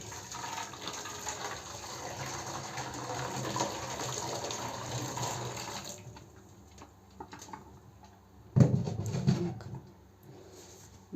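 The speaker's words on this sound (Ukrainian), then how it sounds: "висипаємо, заливаємо кипятком" Boiling water is poured from a kettle over oxygen stain remover powder, a soft steady trickle for several seconds, then stopping, followed by a brief louder splash or clatter nearby.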